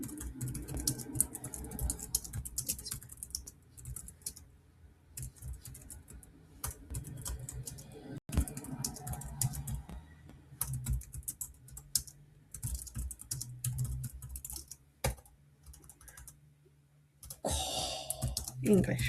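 Computer keyboard typing in quiet bursts of rapid clicking keystrokes, pausing and resuming across the clip, close and fairly faint with no talking over it.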